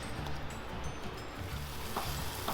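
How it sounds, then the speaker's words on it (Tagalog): Cassava mixture being stirred and scraped continuously in a pan, a steady soft sizzle with scraping rustles throughout, fairly quiet and close, no talking. "This one, you have to scrape this or stir it continuously"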